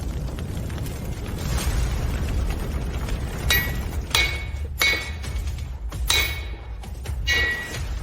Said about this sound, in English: Is someone forging a weapon? He is using ancient forging techniques.